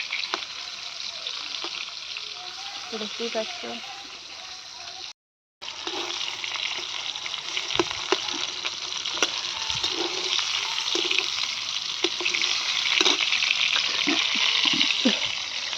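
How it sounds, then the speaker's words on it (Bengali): Pointed gourd (potol) fries in oil in a pan, giving a steady hiss of sizzling with scattered pops and a brief silent gap partway through. A voice speaks briefly over the frying. "এই যে দেখো পটল, পটলগুলো ভাজা হয়েই যাচ্ছে"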